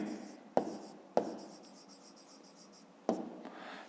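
Pen writing by hand on paper while marking a right angle in a fifth-grade geometry exercise, a soft continuous scratch broken by three sharp taps of the tip, close and quiet, with no talk.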